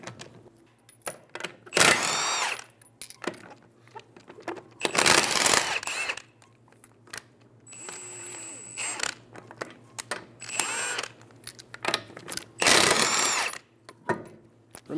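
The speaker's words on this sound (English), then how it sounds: "Using a 21mm socket, remove the 5 lug nuts." A socket wrench removes the 21mm lug nuts from the rear wheel of a 2007-2011 Toyota Camry, giving bursts of ratcheting and metallic clicks spaced across the clip with quiet pauses between them.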